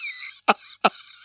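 Two short, sharp coughs about a third of a second apart, close and fairly loud, over faint background hiss.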